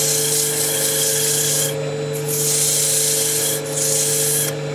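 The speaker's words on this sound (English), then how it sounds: "So a little sanding in here now." Sandpaper rubs against spinning end-grain wood on a lathe, a steady close scratchy hiss over the motor's constant hum, briefly easing twice as the hand lifts away.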